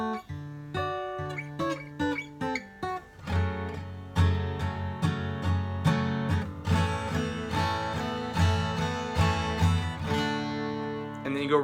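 Intro of a song played on guitar, starting with sparse picked notes, then filling out into fuller strummed chords with a steady pulse, close and moderately loud, no talking.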